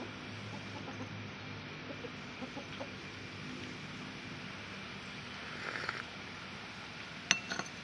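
Faint, scattered chicken clucks over a steady background hum, with a few light clinks near the end.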